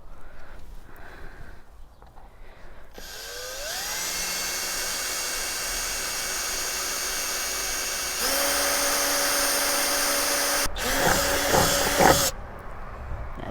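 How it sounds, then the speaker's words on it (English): A power drill drills into a plastic water butt, whirring up, running steadily at high pitch, changing tone partway, then stopping abruptly after several seconds of continuous drilling. "Just be careful if you're drilling any plastic things, because they split so easily"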